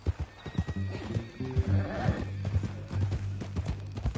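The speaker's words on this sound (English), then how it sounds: "That new horse?" A horse on a ranch, hooves clip-clopping in an uneven rhythm close by while the animal gives a clear whinny partway through.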